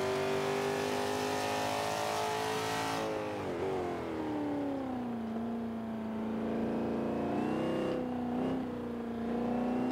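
Engine of a 1995 Mustang, B Class, driven in the Forza 5 racing game, droning steadily with rising and falling pitch as it accelerates and shifts through gears, loud and continuous with no talk.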